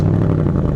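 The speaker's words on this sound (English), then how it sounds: "Listen to this exhaust." A purple Ford Mustang's exhaust rumbles in a brief, deep, steady idle-like burble, close and fairly loud.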